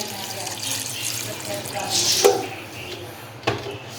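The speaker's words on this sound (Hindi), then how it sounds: "2 गिलास अब हम पानी के डालेंगे।" Water runs from a tap into a pressure cooker pot holding garlic, a steady nearby splashing with a couple of brief clanks, while a person speaks over it.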